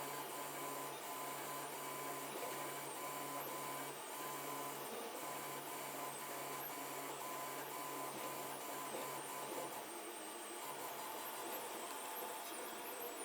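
A 3D printer hums and whirs continuously while printing as its filament spool turns, a steady, faint mechanical drone with tonal motor notes and no voices.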